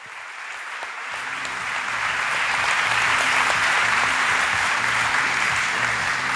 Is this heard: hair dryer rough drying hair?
no